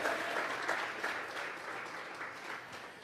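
Congregation at a Sunday church service clapping hands together as an offering of praise, dense sustained applause at moderate distance that tapers slightly toward the end.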